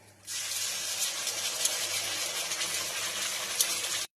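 Water rinsed from a mixer jar pours into a wok that holds ghee and a spice paste for kalakand, a steady close rushing splash that lasts about four seconds and then stops abruptly.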